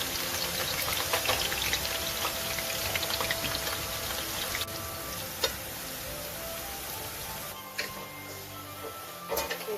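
Shallots frying in hot peanut oil: a steady, close crackling sizzle that runs throughout with occasional sharper pops.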